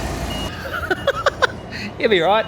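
A forklift's reversing alarm gives a few quick electronic beeps near a parked car by a building, followed by someone speaking briefly close to the microphone.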